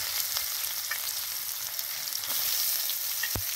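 Sliced onions frying in hot oil for a potato curry (aloo dum), a steady close sizzle with crackles and one sharp knock near the end.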